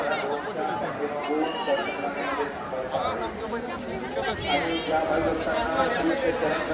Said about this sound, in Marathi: भरपूर गर्दी आहे भरपूर